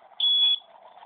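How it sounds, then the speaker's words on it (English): An obstacle-warning alarm on a semi-automated vehicle for disabled people gives one steady, loud electronic beep lasting about a third of a second, with faint background noise after it. "When an obstacle is encountered, an alarm will be sounded."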